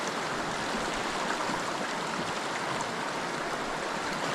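Steady, full rushing of a stream pouring over a little waterfall while fall trout fishing, a continuous broadband roar close by with no breaks and no voices.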